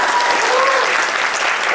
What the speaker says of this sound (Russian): Это аплодисменты, понимаете?